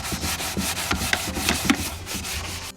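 Hand sanding a painted surface, likely wood, in repeated back-and-forth rasping strokes, about eight close, fairly loud scrubs in quick rhythm with no talking.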